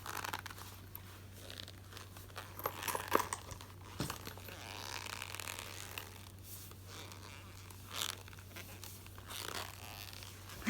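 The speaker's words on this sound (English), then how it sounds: "It makes this nice leather sound as well" Pig leather wallet notebook being handled, giving soft crinkling, rustling and creaking with brief scuffs and a couple of sharper clicks, close and quiet over a steady low hum, no talking.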